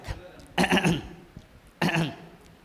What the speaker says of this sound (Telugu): గొంతు సవరించుకోండి